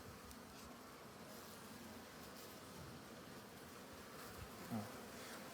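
A steady, dense buzzing of many honeybees around a hive, continuous and fairly quiet, with no voices.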